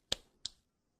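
Two quick, sharp hand claps, fairly faint, about a third of a second apart, then silence.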